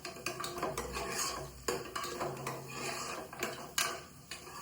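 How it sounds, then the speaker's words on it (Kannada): Onions are stirred and fried in a pan in a home kitchen, with repeated scraping of a utensil against the pan, clinks and a faint sizzle, close and uneven in rhythm. "ಈರುಳ್ಳಿ ಹಾಕ್ತಾಯಿದ್ದೀನಿ. ಇವಾಗ ಇದನ್ನ ಒಂದ್ಸತಿ ನೀಟಾಗಿ ಇದನ್ನ ಫ್ರೈ ಮಾಡ್ಕೊಳ್ಳೋಣ."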